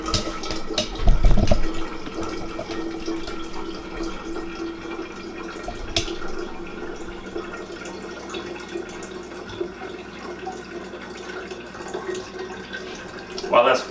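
Tap water runs steadily into a coffee pot, a continuous close hiss and splash that holds at an even level, with a brief clatter near the start.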